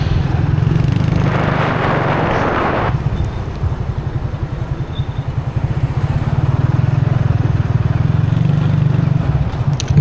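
A motorcycle engine runs steadily on a road near Pattaya, a close, continuous rumbling drone with a passing surge of noise early on and no talking.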